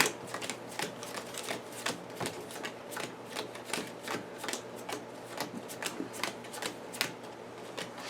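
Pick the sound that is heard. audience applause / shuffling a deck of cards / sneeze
shuffling a deck of cards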